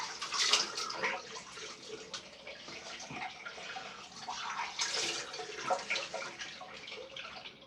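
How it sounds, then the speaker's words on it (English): Running water splashes as a soapy face is rinsed after a straight-razor shave, a steady close wash with shifting splashes and drips throughout. "we'll just have a good wash to try and get some of that off my face"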